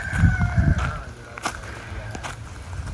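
A black Kadaknath rooster crows on a farm, its drawn-out call standing out at moderate distance over low rustling and scattered knocks, with no speech.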